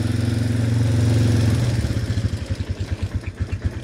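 A farm motorbike with a centrifugal clutch runs in low first gear, a loud close engine hum that breaks into a rhythmic chugging pulse as it pulls away slowly.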